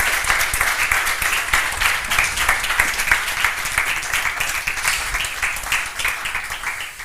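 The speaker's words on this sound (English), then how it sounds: "I would just like to ask for a round of applause for Sandro." Audience at a blockchain talk giving a round of applause, a loud, dense and continuous clapping from many people in a room, sustained for the whole stretch without speech.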